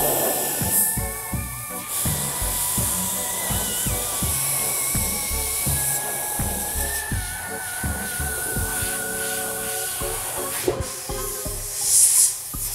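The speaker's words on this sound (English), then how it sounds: "right now, I have black in the airbrush, so we're gonna go ahead and do his eyes and his little mouth there" Soft intermittent hiss of an airbrush spraying black paint onto a Halloween mask, short bursts recurring close by over faint background hum.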